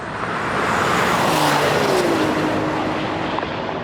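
A Porsche 911 Turbo S launches in a drag race, a loud roaring engine surging and sweeping in pitch over a broad wash of wind and road noise, close and continuous for a few seconds.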